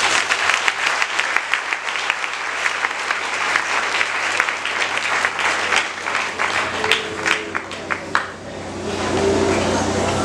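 A church congregation applauds steadily for several seconds, many hands clapping in a dense, loud wash with some voices mixed in, easing off briefly before swelling again.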